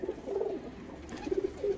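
A black breeding pigeon coos close by, repeating low, soft rolling calls in short bursts against a quiet background.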